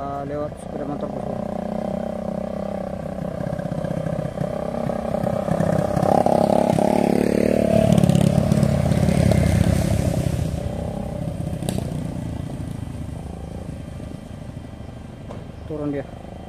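A motorcycle passes along a road beside coal trucks, its engine swelling from a steady rumble to a loud peak midway and fading again, with a voice talking over it.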